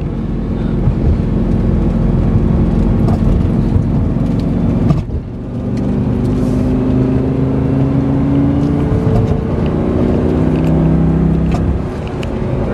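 A 2005 Lamborghini Gallardo, a repairable salvage car, on a test drive: loud, sustained engine drone with rising and falling tones as it accelerates, a brief dip midway, heard from inside the cabin.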